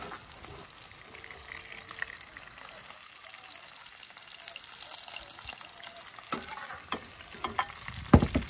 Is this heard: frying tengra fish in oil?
yes